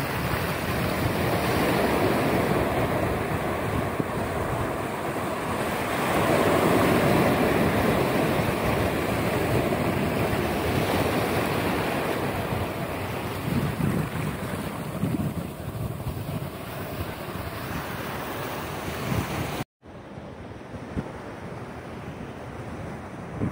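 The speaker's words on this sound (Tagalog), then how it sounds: "napakaganda po ng pakinggan ng alon" Ocean waves wash and surge continuously on Cenang Beach, Langkawi, Malaysia, mixed with heavy wind buffeting the microphone, with no voices.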